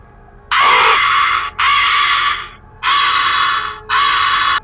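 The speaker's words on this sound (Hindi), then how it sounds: "कौवे की आवाज सुनाई देने लगा" A crow caws as a horror-story sound effect: four loud, harsh caws in a steady rhythm with short gaps, close and alone.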